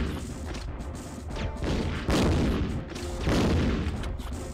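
Grenades go off in the Resident Evil Survivor game for PlayStation, giving a run of loud, rumbling blasts and crashes that swell twice into heavier bursts and then fall back, with no talking over them.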